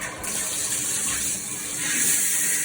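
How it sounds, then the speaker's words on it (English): Water rushes from a shower head and spout because a faulty valve diverter fails to send all the flow up, producing a loud, steady splashing gush that swells slightly toward the end. "Our valve diverter is not diverting all the water to the shower head."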